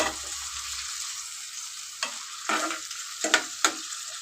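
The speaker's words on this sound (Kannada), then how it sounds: "ಸ್ವಲ್ಪ ಟೊಮೊಟೊ ಫ್ರೈ ಮಾಡ್ಕೊಳ್ಳೋಣ, ಜಾಸ್ತಿ ಫ್ರೈ ಮಾಡ್ಕೋಬಾರ್ದು." Tomatoes fry briefly in oil for a soya gravy, a soft, fairly faint sizzle with several sharper scraping stirs that grow more frequent toward the end.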